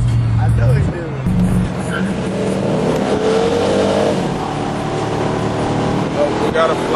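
A Chevy Caprice or C10 pickup truck roars past close by with a rising engine rush and tire noise, loud and continuous, while people talk over it.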